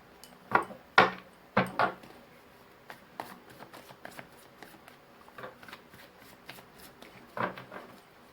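Tarot cards are shuffled during a Hindi-language tarot reading: a few crisp, papery riffling bursts near the start, then lighter intermittent flicks and taps, with a final louder burst toward the end. Close and clear, with no talking.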